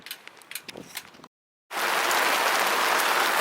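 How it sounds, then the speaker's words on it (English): Hail and heavy rain pelt a sailing boat, a dense, loud, continuous hiss of drops striking the deck and hull after a short silent gap, preceded by scattered lighter patter. "So we had a bit of hail for a brief period there. And we got some proper rain"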